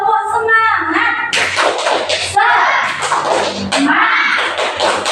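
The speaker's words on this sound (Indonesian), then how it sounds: "Tepuk semangat." A classroom of students does a rhythmic spirit clap, with bursts of hand claps and thumps mixed with children's chanting voices.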